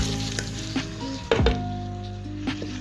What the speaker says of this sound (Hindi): मटर ऐड करने के बाद इसके अंदर बंद गोभी भी मैं ऐड कर दूँगी, और इसे अच्छे से मिक्स करके